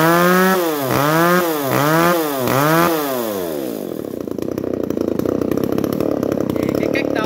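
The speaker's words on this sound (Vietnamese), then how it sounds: "là cái cách khởi động máy của con máy cưa xích" A chainsaw gets started: several rising pull-cord rasps, then the engine catches and runs at full throttle, loud and close, with a continuous buzzing roar to the end.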